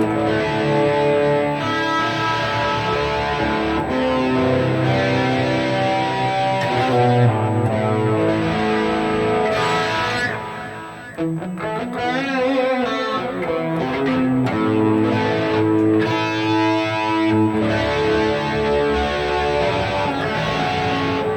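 An electric guitar played through an Air Chorus effect on a Kemper profiler rings out steadily for about twenty seconds, lush and shimmering with sustained chords and melodic lines, alone with no talking.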